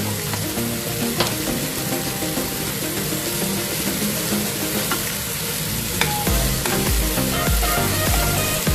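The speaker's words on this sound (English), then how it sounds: "Have to fry it to golden brown color" Onions with a pinch of turmeric powder fry in a pan for a vegetable biryani, giving a steady, dense sizzle throughout with occasional pops and stirring clatter, close and fairly loud, with no talking.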